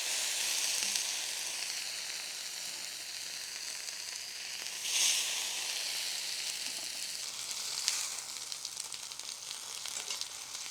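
A steak sizzles in a pan over a fire with a continuous bright hiss, swelling briefly twice as it is turned with a steak flipper forged from an old rail spike; no one speaks.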